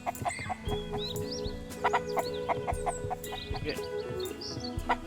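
Chickens in the video game Mist Survival cluck repeatedly in short, steady bursts, close and clear, with faint bird chirps over a low ambient hum.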